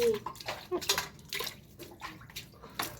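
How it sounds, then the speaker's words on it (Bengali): Dishes being washed by hand in cold water in the morning, with irregular splashing, clinking and running-water bursts close by, a voice faintly in the background. "সকালবেলা ঘুম থেকে উঠে ঠান্ডা জলে বাসন ধোয়া খুব কষ্টকর"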